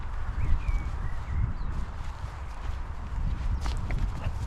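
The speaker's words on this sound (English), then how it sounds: "I guess I'm leading a convoy of cows now." Cows walking on a golf course hiking trail behind a walker, hooves clopping irregularly on the ground nearby under steady outdoor noise, with a few faint bird calls.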